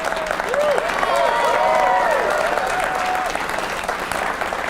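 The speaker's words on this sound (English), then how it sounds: "If you could give them a round of applause for helping us put this on." A studio audience claps in a steady burst of applause at a Christmas livestream, with a voice and cheers audible over the clapping before it tapers off.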